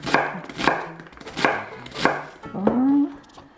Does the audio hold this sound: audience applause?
no